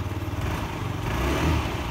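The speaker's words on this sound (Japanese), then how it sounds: "エンジンスタートですね" A Yamaha VOX moped's small engine starts and runs steadily close by, with a constant mid-low buzzing drone that swells slightly toward the end and has no talk over it.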